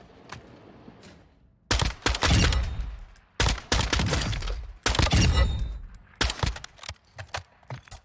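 A semi-automatic marksman sniper rifle in a shooter video game fires in rapid bursts of loud, close booming shots with short pauses between the volleys.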